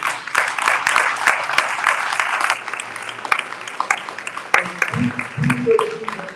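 Applause from a crowd at a community school board meeting, steady clapping mixed with scattered voices and cheers, loudest early and thinning toward the end.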